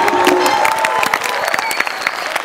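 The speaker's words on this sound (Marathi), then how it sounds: "जोरदार टाळ्या." Applause and some cheering from an audience at a school's parents' sports event marking its 25th anniversary, part of a comedy show. Dense clapping runs steadily through the whole moment, with a few louder claps standing out.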